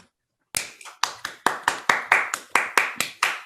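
Scattered hand claps from a small audience before a performance begins, about a dozen distinct sharp claps in an uneven rhythm after a moment of silence, close and fairly loud with no voices.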